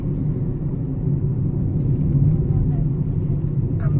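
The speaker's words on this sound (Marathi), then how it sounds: "गाड्या चालल्यात वरती." Cars pass on a road overhead in a mountain ghat near the Misfa village in Muscat, giving a continuous low rumble of traffic with no voices heard.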